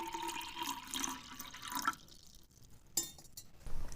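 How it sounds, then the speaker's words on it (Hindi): A glass of water is poured into a pan of freshly roasted spices to make a herbal decoction, giving a faint, splashy, trickling pour with some soft clinks that fades after a few seconds. "जैसे ये सारी चीज़ें भुन जाती हैं तो आपको तुरंत 1 गिलास पानी इसमें डाल देना है"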